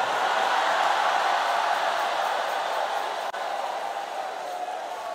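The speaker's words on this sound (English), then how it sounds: "this crowd will make the noise for it" A large church crowd at a Christian conference roars in a sustained, broad wash of cheering and shouting that holds steady and loud throughout, with no distinct single voices.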